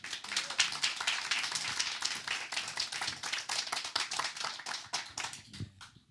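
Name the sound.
audience applause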